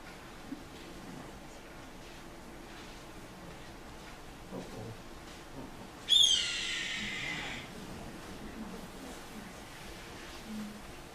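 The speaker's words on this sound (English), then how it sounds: "That's an actual red-tailed hawk." A single red-tailed hawk gives one harsh, raspy descending scream partway through, loud against quiet background hiss, then trails off into silence.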